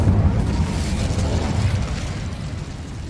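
A fire spell being cast in Hogwarts Legacy, heard as a loud, continuous rushing burst of flame that fills the whole moment with dense roaring noise and faint booming undertones.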